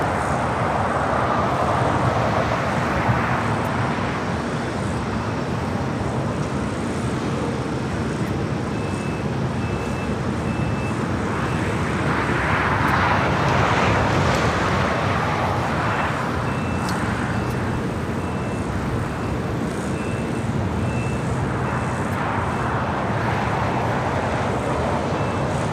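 Distant jet engine roar from an aircraft taking off on runway 25 right at LAX, a broad steady rumble that swells and fades in waves amid airport and traffic background noise.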